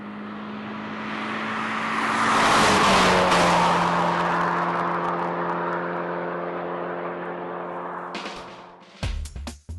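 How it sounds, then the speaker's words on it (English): A Subaru BRZ with a non-turbo 2-litre boxer engine drives past loudly, its exhaust note swelling to a peak and easing off as it revs steadily, with a few sharp knocks near the end and no talk. "The 2-litre boxer engine may lack a turbo, but it still delivers good power all the way to the red line."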